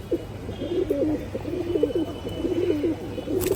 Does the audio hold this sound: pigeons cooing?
yes